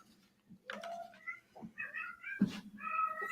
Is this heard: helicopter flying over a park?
no